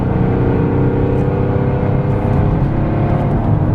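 Straight-piped turbo diesel Mercedes engine held at revs, a loud, close, droning exhaust rumble that stays steady for a few seconds without pauses or voices.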